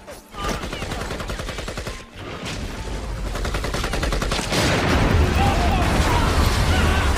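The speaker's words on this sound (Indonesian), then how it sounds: "Hingga baku tembak kembali terjadi." A kung fu film shootout fills the scene with dense rapid gunfire, bursts of shots and booming impacts piling up loudly over a few seconds, with background voices mixed in.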